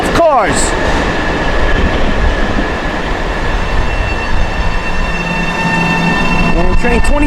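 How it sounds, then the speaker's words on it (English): A 12-car LIRR commuter train passes close by with a loud, continuous rolling roar and rumble. A brief chirp of wheel squeal and clatter comes near the start and again at the end. "This is train 1060 with 12 cars."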